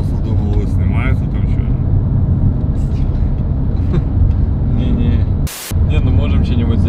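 Steady road noise from inside a moving rideshare car on a trip home from Idritsa, Russia, a continuous low engine and tyre rumble throughout with a brief dropout near the end.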